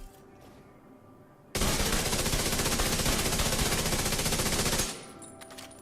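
The Burnout assault rifle fires one sustained, loud, close automatic burst of about three seconds in a video game, starting abruptly and stopping cleanly, with quieter background before and after.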